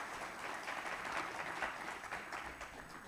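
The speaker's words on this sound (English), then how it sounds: "Monsieur Sébastien, directeur de la BCIMR, s'il vous plaît, applaudissez-le" Steady audience applause at a regional conference on special economic zones, a dense patter of many hands clapping that holds at an even level for about three seconds with no voices on top.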